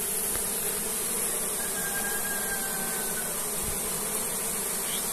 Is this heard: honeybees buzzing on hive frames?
yes